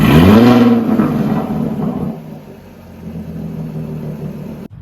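Jaguar F-Type V6 S supercharged engine fires up with a loud, sharp rev flare, then settles into a lower rumbling idle close by; no voices.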